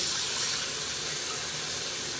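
Running water rinsing glass tile during a bathroom cleaning, a steady bright hiss of flowing water held at an even level throughout, close and with no speech.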